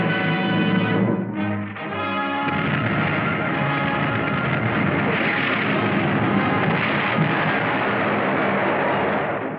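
Gunfire is aimed at a surfaced WWII submarine in the Pacific. A loud, dense, continuous roar of shooting dips briefly near the start, with no talking.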